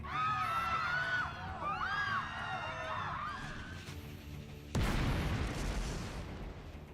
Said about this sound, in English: A massive explosion engulfs the earth.